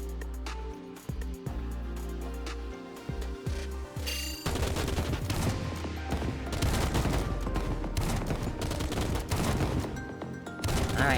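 Rapid gunfire from the video game Nikke, first as separate shots and then as dense continuous bursts with booming impacts layered over game music, loud and with no talking.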